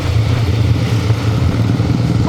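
A motorbike ridden on a Ladakh road trip toward Leh, rider standing on the pegs, gives a steady, loud, close engine drone with low rumble and clatter throughout, no talk over it.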